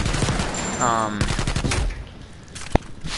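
Sniper rifle gunfire in the Black Ops Cold War video game comes as several sharp, loud shots in quick succession over busy in-game background noise.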